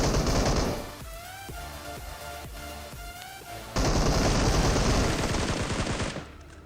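Gunfire in the mobile battle game PUBG Mobile: dense, loud automatic bursts at the start and again in the second half, with rapid single shots between, no talking.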